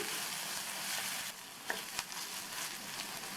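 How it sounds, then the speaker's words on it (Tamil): Chopped medium onion and finely cut curry leaves sauté in a pan with a constant, close sizzle, broken by a couple of light stirring clicks partway through. "மீடியம் சைஸ் வெங்காயம், பொடியாக கட் பண்ண கறிவேப்பிலை இலைகள், இது எல்லாத்தையும் ஜஸ்ட்டு 1 நிமிஷம் போல் வதக்கிக்கணும்"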